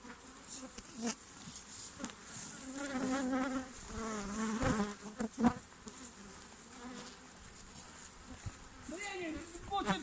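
Honeybees buzz steadily throughout, a dense insect drone with a voice murmuring intermittently underneath.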